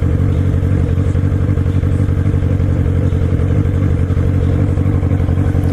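A motorcycle rides through five o'clock rush-hour traffic, its engine a loud, steady close-up rumble with rattling clatter and a constant low throb, no voices over it.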